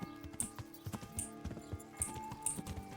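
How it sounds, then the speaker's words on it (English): Horse hooves clip-clop in a video game, a steady run of sharp, fairly quiet clops in an even trotting rhythm for about three seconds, with faint bright jingles recurring among the steps and no voices. "I can drive the horse there"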